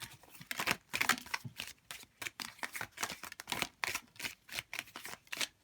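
Tarot cards are shuffled by hand in rapid, irregular riffling bursts, crisp and close, with brief gaps between flurries.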